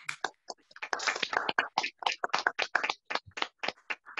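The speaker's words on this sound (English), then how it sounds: "give ourselves a round of applause again" A small group giving a round of applause, sharp, separate hand claps coming in an irregular, sparse patter rather than a continuous roar.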